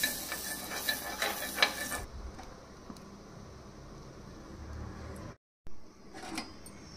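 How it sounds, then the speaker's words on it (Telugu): Bread pieces fry in butter in a pan. A loud crackling sizzle fills the first two seconds, then drops to a softer steady hiss with faint stirring and one brief cut to silence. "బటర్లో బాగా ఫ్రై అయిపోయాయి బ్రెడ్ ముక్కలు"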